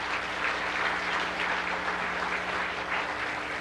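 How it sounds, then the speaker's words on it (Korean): Church congregation applauding a pastor's family at a 2007 ordination service, a steady wash of clapping from many hands filling the room throughout, fairly even in loudness with no speech over it. "박수로 응하겠습니다."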